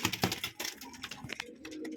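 Pigeons in a loft give soft, low cooing with scattered faint clicks and rustles, heard briefly and at close range.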